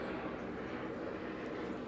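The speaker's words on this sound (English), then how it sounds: "as the helicopters soar overhead" Helicopters flying overhead during an outdoor yoga session, a continuous low rumbling drone that stays steady and moderately loud for the whole stretch, without distinct rotor beats.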